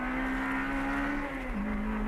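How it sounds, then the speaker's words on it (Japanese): The engine of a Honda DC5 Integra Type R hums at a steady idle with a stock motor and aftermarket exhaust, a constant low tone that dips slightly in pitch near the end. "これもいい感じだね、エンジンね。"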